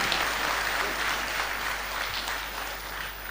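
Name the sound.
audience applause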